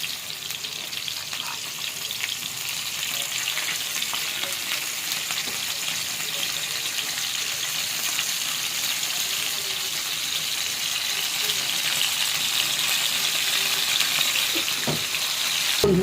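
Small cut pieces of chicken frying in a pan for fried rice, a steady loud sizzle that carries on unbroken, with faint stirring scrapes.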